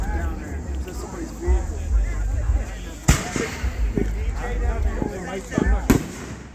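Fireworks bursting at a firework show, with sharp booming bangs at a distance now and then under near, ongoing chatter from onlookers.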